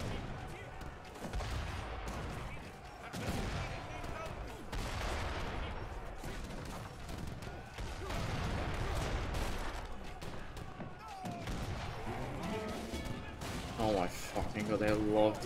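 Repeated explosive blasts and crashing gunfire from petard charges breaching a wall in Age of Empires III: Definitive Edition, a 2v2 treaty match, dense and continuous battle noise with a voice talking over it.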